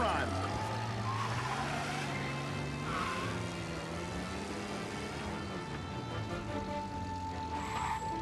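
A car's engine hums steadily while driving in the video game Mafia Definitive Edition, a low continuous drone with slight pitch shifts, heard quietly under character dialogue.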